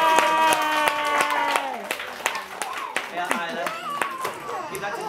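Children in a group clap together for a little girl named Isla, sharp claps repeating through the clip over voices and a sung or spoken tone at the start.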